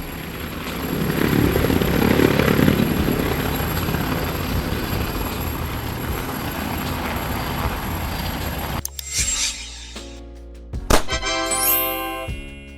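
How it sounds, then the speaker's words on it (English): An ambulance medevac helicopter flies past with a loud, steady rotor and engine roar that fades after about nine seconds, followed by brief tonal chimes. "Ambulance helicopter. Also known as a medevac helicopter"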